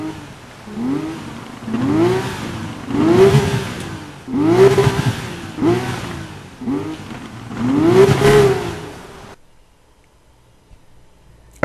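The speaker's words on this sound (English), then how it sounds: "let me show you really quick how the engine sounds" A Porsche 911 GT3 engine in Need for Speed Rivals revs repeatedly, about six rising-and-falling bursts in a row, loud and close, then cuts to near silence.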